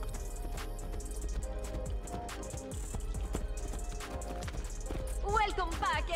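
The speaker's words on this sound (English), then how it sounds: "Now we can ride horses in here too?" Horse hooves clip-clop in Assassin's Creed Brotherhood, a steady, close walking rhythm of hoofbeats beneath voices talking.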